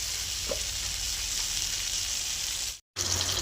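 Prawns frying in a pan for a Bengali dopiaza, a steady close sizzle with faint stirring scrapes, cut off by a brief moment of silence near the end before it resumes.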